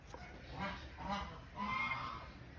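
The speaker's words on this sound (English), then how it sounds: "There's a little goose." A goose honks several times in a backyard coop area in a northeast Texas garden and orchard, the calls fairly close and arriving in short bursts over steady low background noise.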